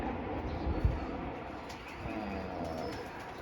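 A large pigeon coos low and soft near a young bird in a pigeon loft, a few muffled calls rising briefly over steady background noise.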